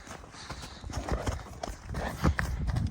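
A bay-brown mare walks along, her hooves clip-clopping in a steady, close rhythm with some scuffing between steps.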